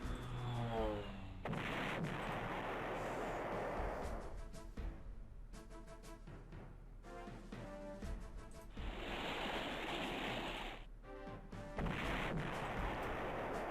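Artillery bombardment in the strategy war game Allied General at El Alamein, a string of heavy booming blasts and crashing impacts over continuous rumbling battle noise.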